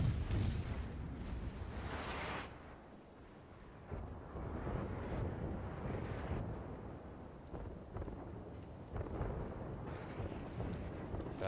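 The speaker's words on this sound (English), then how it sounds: "broadside of a battleship" A battleship fires broadsides in a naval video game, heard as faint, rumbling bursts of gunfire that swell and fade in waves over a soft, windy background.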